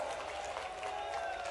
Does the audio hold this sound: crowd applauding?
yes